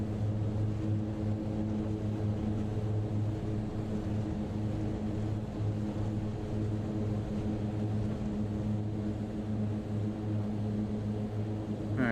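Twin turboprop engines of an MU-2 in Microsoft Flight Simulator 2020 drone steadily through a takeoff run, a loud, even propeller hum with strong low harmonics and no speech.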